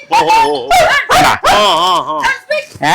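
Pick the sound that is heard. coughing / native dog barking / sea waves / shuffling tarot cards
native dog barking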